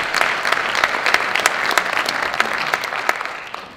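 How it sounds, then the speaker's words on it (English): An audience at a Sunday morning legal forum applauds volunteer attorneys, a fairly close, steady patter of clapping with a few sharper individual claps standing out before it fades toward the end. "let's get a little round of applause for them on a Sunday morning"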